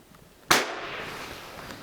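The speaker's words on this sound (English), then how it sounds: "All right, it did fire" An old inherited gun firing a single round, one sharp close crack that decays quickly into a fading room ring, with no talk around it.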